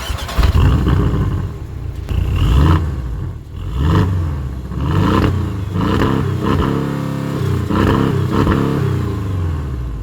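A Porsche Boxster S with a four-cylinder turbo engine revs and accelerates loudly up close, its exhaust rising and falling in repeated pulls with a buzzy, raspy tone.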